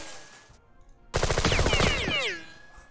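A rapid burst of automatic gunfire rings out in the video game Jagged Alliance 2, loud and dense for about a second after a quiet lead-in.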